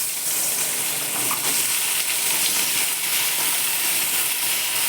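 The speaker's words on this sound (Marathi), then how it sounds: "तूप तापलं बघा त्यात ह्या फोडी घालते मी" Sweet potato pieces frying in hot ghee, a loud, steady close sizzle with constant hiss and small crackles throughout, no voices over it.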